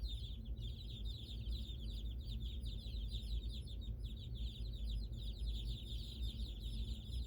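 Week-old chicks in a new brooder room chirp steadily in a dense, continuous chorus of high cheeps over a constant low hum of equipment, with no talk.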